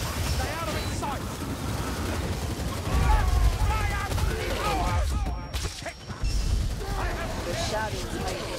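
Rapid rattling gunfire from a ratling gunner in Warhammer Vermintide, a continuous dense burst under loud game effects, with voices talking over it.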